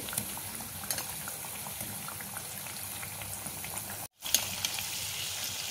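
Chole tikki cutlets fry in a pan over a low gas flame, giving a soft, continuous bubbling sizzle with a momentary dropout before it resumes.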